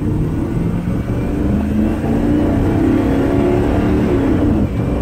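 A deep 5.4-litre V8 engine in a 2000 Ford E250 4x4 van rumbles steadily and rises in pitch as it accelerates, heard from inside the vehicle with no talking.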